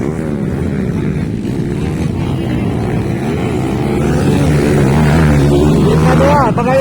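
Kawasaki KLX motocross bikes racing in a first heat at a festival motocross event, engines droning loudly and continuously with rising and falling revs as they pass, a commentator talking over the noise.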